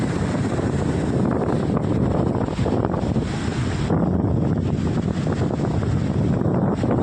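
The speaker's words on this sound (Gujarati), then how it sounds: "પવન ખૂબ છે અહીંયા રહેવાય નહીં." Strong wind buffets the microphone at the seashore, a loud, steady roar with heavy low rumble and gusty surges throughout, with surf likely mixed in beneath.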